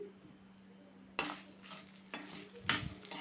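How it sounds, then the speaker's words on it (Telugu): Ginger pieces stir-fry over a low flame for ginger chutney, giving soft bursts of sizzling and a spatula scraping the pan in separate strokes after a quiet start. "ఈ అల్లం ముక్కలు కూడా పచ్చివాసన పూర్తిగా పోయేంత వరకు కలుపుకుంటూ వేయించుకోవాలి."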